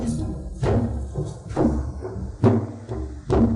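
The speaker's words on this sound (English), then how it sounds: "That is the drum of Ling Qi." Deep drum strikes ring out in a palace drama, about five heavy booming hits at a slow uneven pace, each with a resonant decay, loud and close.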